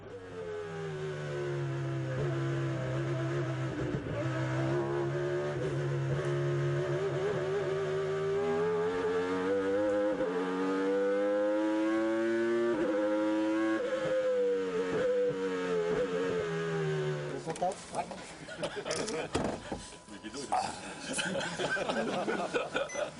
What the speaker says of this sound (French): voir cette lourde voiture rugir comme la plus véloce des Formule 1 et la voir s'engouffrer dans les virages du circuit nivernais à très haute allure